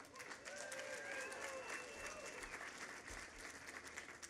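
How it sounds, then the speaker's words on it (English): A crowd applauding contractors at the opening of New York's Second Avenue subway, a steady dense wash of clapping that stays even throughout, somewhat distant and faint, with faint voices in the background. "let's give them all a round of applause"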